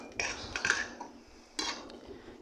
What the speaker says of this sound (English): Grease our pan.